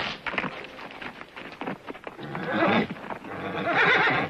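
A horse neighs loudly with clip-clop hooves in a Western TV scene, whinnies rising and falling over busy hoofbeats, close and prominent.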